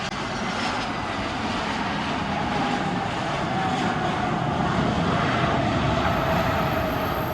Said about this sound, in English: Now let's take a flight to Portugal and land at one of the most dangerous airports in the world, Cristiano Ronaldo Airport.